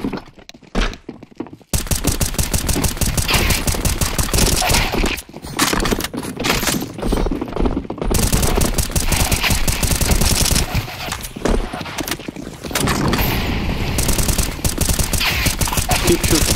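Relentless automatic gunfire in the CS2 Zombie Escape map Mario Tower, loud and near, with dense rapid bursts running almost continuously after a brief quieter opening.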